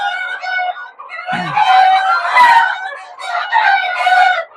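A flock of Egyptian Fayoumi chickens clucks and crows loudly and continuously up close, their calls overlapping in dense, repeated bursts with no talk.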